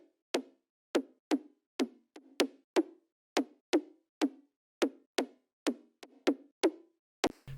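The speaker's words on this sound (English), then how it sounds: "this is the kind of top layer adding a click" Short, bright high-end click layer for a Brazilian bass synth, a quick series of sharp, dry percussive ticks in an uneven rhythm, isolated and fairly quiet with no voices.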